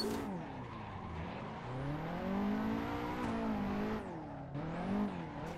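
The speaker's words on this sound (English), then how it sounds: "Make some nice throttle adjustments, make sure you're keeping your drift nice and smooth." A modded Nissan 180SX S13 with a four-cylinder engine drifts in Assetto Corsa, its engine note rising and falling with throttle adjustments while tires squeal continuously throughout, fairly faint and steady.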